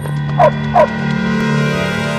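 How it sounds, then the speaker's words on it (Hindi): A sniffer dog near a sealed container during a narcotics search gives two sharp, loud barks in quick succession over steady low background hum. "इधर स्नैफर डॉग ने यहां मौजूद एक सील कंटेनर के करीब ही भौंकना शुरू कर दिया।"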